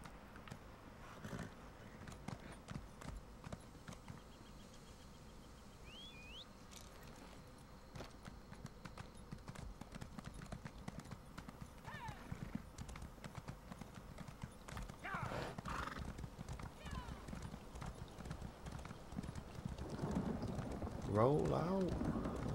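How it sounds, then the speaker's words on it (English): A summoned horse in Elder Scrolls Online gallops in with a steady run of clip-clop hoofbeats and lets out a neigh. Game speech comes and goes over the hooves. "Call my trusty steed"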